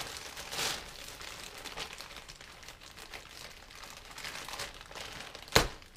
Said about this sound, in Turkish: poşetini yırtayım